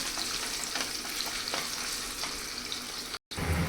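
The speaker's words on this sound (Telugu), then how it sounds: "ఇవి కొంచెం బ్రౌనిష్ కలర్ వచ్చేంత వరకు వేగితే చాలు, ఒక 2 నిమిషాలు." Ingredients for a fish curry fry steadily in a pan with a continuous close sizzle and occasional stirring scrapes, broken by a brief silent gap near the end.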